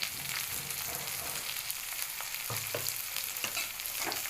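Onion and ground masala paste frying in a pan for mutton biryani, a continuous soft sizzle with occasional spoon-stirring knocks, fairly faint and without talk.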